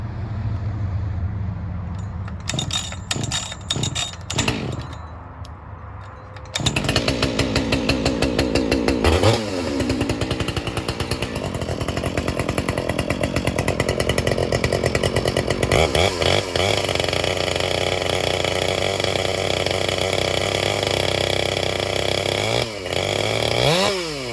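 A ported Husqvarna 572XP chainsaw revs loud and close, idling briefly before repeated bursts of high-pitched running and sustained cutting through wood, with engine pitch dipping under load.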